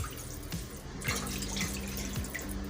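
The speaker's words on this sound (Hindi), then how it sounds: "2 कप पानी इसमें ऐड करूंगी।" Water runs steadily from a tap into a cooking pot for a noodle recipe, a continuous close splashing and gurgling stream with no talk.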